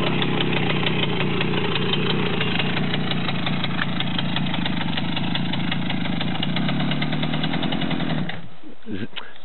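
A Romet motorcycle engine runs steadily with a low, throbbing idle-like drone as the clutch is eased out, holding for about eight seconds before cutting off abruptly near the end.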